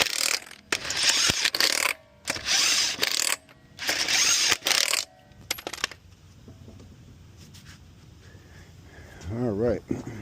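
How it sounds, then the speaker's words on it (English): Lug nuts being torqued down on a car wheel during a mobile tire service. A series of loud mechanical ratcheting bursts comes first, followed by quieter clicks and handling noise, with a short voice-like sound near the end. "So I'm gonna put it on,"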